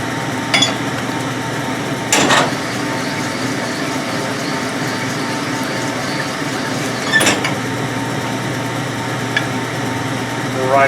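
Honing machine working GM connecting rods for a 454 big block Chevy, a steady mechanical whir and hum with a few sharp metallic knocks, close and continuous.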